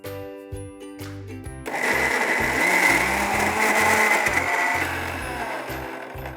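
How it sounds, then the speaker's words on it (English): Cooked rajma beans are ground into a paste in a kitchen grinder, which starts after a short pause of light handling and then whirs loudly and steadily to the end. "the next step is grinding this into a paste."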